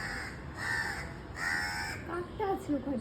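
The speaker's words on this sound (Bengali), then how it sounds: "কাকটা আছে ওখানে" A crow caws several times outside, in short harsh bursts at moderate distance, while faint household background noise runs underneath.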